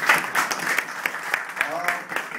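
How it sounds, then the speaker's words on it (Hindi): Audience applause at a formal Urdu-language gathering honoring diplomats, a moderate wash of clapping with some speech-like murmur mixed in, fairly steady for a couple of seconds. "आप सबसे रिक्वेस्ट करूँ इनके लिए भी भरपूर एक दफ़ा तालियाँ होनी चाहिए"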